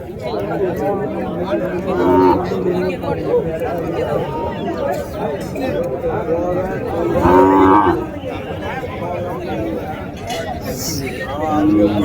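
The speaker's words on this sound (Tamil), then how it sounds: "இந்த பொட்டை மாடு ஜோடி." Cattle moo loudly at a busy cow market in Natrampalli, two long bellowing calls rising above a constant babble of people bargaining and talking nearby.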